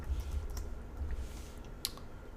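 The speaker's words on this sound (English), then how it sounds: "I'm going to hit Control X on my keyboard" Quiet keystrokes on a computer keyboard during C# programming work, a few soft clicks spread unevenly across a faint room hum, with no talking.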